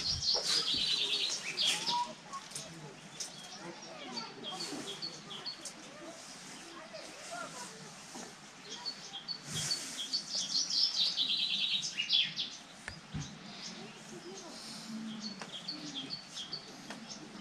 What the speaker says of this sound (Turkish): Yani kuş sesleri.